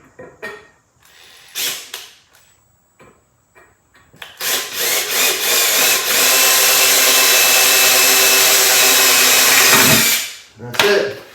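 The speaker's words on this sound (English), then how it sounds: "I'm gonna go drill all the other ones, go get my screws." A power drill bores into the wood of a gazebo loveseat in one long continuous run of about six seconds, loud and close, after a few short clicks and bursts, then a quick final burst.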